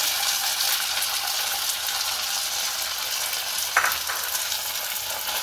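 Ada roasting in ghee in a pan gives a steady, even sizzle and fry hiss, close and constant, with one brief stir or scrape near the end and no voices.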